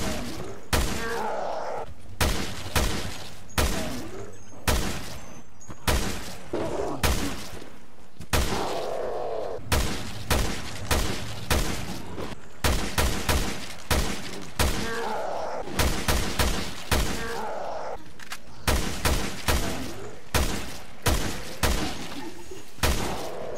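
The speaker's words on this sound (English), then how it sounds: "I'm gonna go ahead and test the NSR-47 on a Rotten." Assault rifle shots from the NSR-47 in Resident Evil: Revelations 2, fired at a Rotten. Loud, close bursts of gunfire come in rapid clusters, separated by short pauses, with low game groans and thuds in between.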